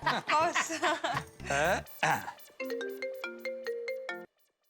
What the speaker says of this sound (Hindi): चलो अभी फटाफट बॉस को फोन लगाओ।